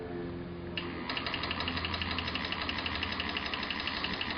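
A remotely controlled motor driving a hydrogen thruster, running steadily with a rapid, pulsing mechanical chatter that kicks up in intensity after about a second and holds, close and alone without speech.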